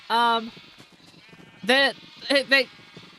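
Minecraft sheep bleat close by in a burst of short, wavering calls: one, a pause, then several more in quick succession.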